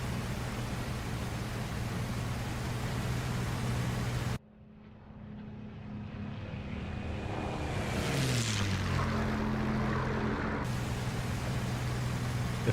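A P-51 propeller aircraft climbs in DCS World as a loud, steady engine drone, which cuts away and then builds back while the engine's pitch sweeps and settles.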